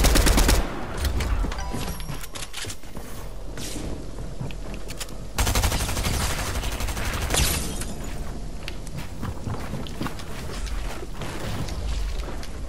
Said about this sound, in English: there's another team shooting that direction